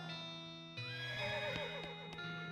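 A horse in West of Loathing gives one clear whinny, rising then wavering down, close and alone over a faint steady background tone.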